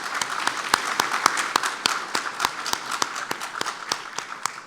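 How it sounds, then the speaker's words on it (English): Conference audience applauding after a panel discussion on crypto regulation, steady, even clapping from a modest crowd that lasts a few seconds at moderate volume. "Please join me giving a big round of applause for my fellow panelists."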